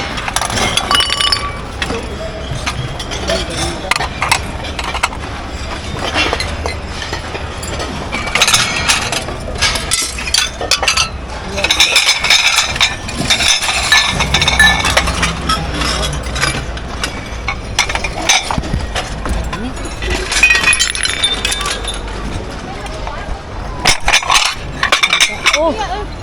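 Glass items clink, knock and occasionally break as they are sorted through in a dumpster, with frequent sharp rattles over a low idling engine and people talking throughout.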